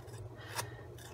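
Paper card edges drawn along the blade of scissors to distress them, a soft close rasp with a brief louder scrape mid-way, quiet and alone.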